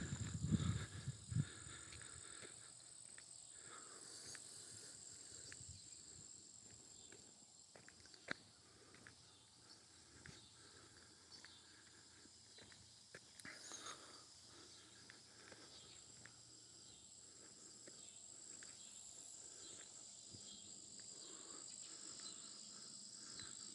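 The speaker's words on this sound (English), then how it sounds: "The cicadas are starting to sing." Cicadas sing outdoors in a faint, continuous high buzz with a pulsing rhythm. Occasional footsteps and light rustles are heard close by, with no talking.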